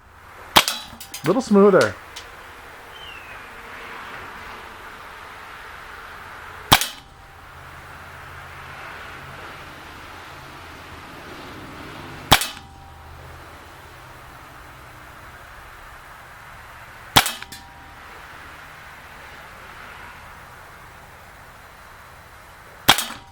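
An Umarex Makarov Ultra CO2 blowback BB pistol is fired outdoors, giving four sharp, loud cracks spaced roughly five seconds apart over a faint background hiss. A voice briefly speaks near the start.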